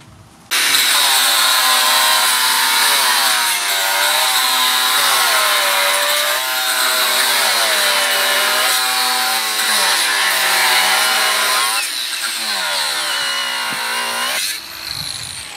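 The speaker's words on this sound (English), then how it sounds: "We are cutting 1/2 inch galvanized threaded rod." A cordless angle grinder fitted with a fast-cut disc cuts through 1/2 inch galvanized threaded rod, a loud continuous high whine with a grinding edge that wavers as the cut progresses, then stops abruptly at the end.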